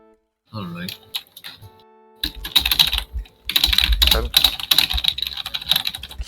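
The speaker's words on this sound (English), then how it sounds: "Keyboard ASMR." Rapid computer keyboard typing, loud and close, runs in dense bursts while playing TETR.IO during a stream, with a person talking briefly before the clatter takes over.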